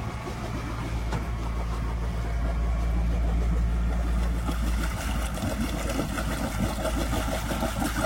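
Steady, droning engine hum of a sailboat motoring under engine with its genoa set, with constant low rumble and wash of water and wind, no talking.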